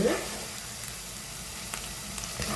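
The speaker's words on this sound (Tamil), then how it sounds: "இப்போ ஒரு 3 நிமிஷமாக வெங்காயம் வதங்கிட்டு" Onions sautéing in olive oil in a pan while cooking chicken kothumai, a steady, close, continuous sizzle and crackle with no pauses.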